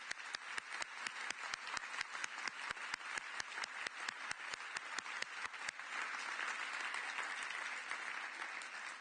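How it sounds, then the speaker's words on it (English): An award ceremony audience at the EU Prize for Women Innovators gives warm applause, beginning with distinct rhythmic claps in unison that dissolve into dense, even clapping. "let's give her a warm round of applause"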